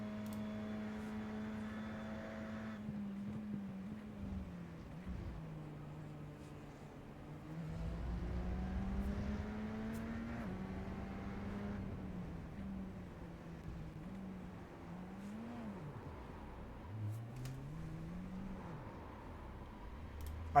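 Radical SR10 race car lapping Road America, its engine droning steadily and rising and falling through gear changes, with sharp pitch swoops on downshifts and re-acceleration; loud onboard sound with no talking.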